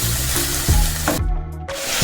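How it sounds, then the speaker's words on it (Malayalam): Raw chicken dropped into a pan of onion masala for Kanthari chicken, setting off a steady close sizzle and frying hiss with a few stirring scrapes and clatters. "ഇതിലേക്ക് ചിക്കൻ ചേർത്ത് കൊടുക്കുകയാണ്."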